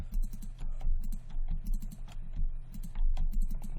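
Computer keyboard keys clatter in quick, irregular bursts of close, crisp clicks and taps, with no talk, while working in Maya 2017 modelling software.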